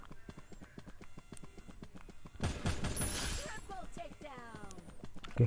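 Horse hooves clip-clopping in the Free Fire video game, a steady run of light beats that turns into a denser, noisier burst midway, with a voice briefly heard near the end.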